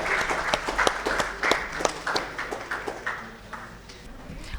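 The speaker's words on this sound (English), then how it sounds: "Can we have a huge round of applause for both the teams?" At a corporate social responsibility awards ceremony, a modest audience claps for the winning teams, with sharp, separate hand claps over a thin wash of applause that thins out and fades toward the end.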